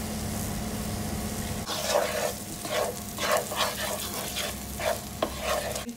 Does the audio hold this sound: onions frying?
yes